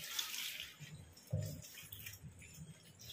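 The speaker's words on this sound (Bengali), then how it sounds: "আমি এবার ভালো করে পাতাগুলোকে ধুয়ে নেবো।" Taro leaves washed by hand in water, with soft splashes and sloshing, a brief louder splash in the middle, close and fairly quiet.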